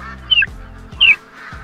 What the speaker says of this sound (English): I've got ducks landing all over on top of me